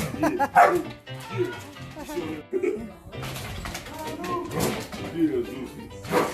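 A dog gives several short barks and yips close by, mixed in among people talking and laughing.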